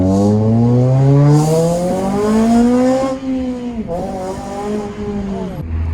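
A Honda Civic Type R FN2 with a custom exhaust revs hard through VTEC crossover, its pitch climbing and dipping in long sweeps, loud and close, with a brief drop before revving up again.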